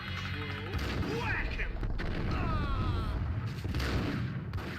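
Gunfire in the video game Max Payne rings out over loud, continuous game audio with booming, dense low-end blasts and mechanical clatter, while a voice talks across it.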